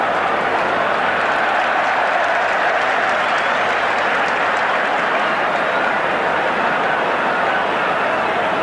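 A football stadium crowd at a Manchester United versus Ipswich Town match applauds in a sustained, dense roar of clapping that fills the whole stretch evenly.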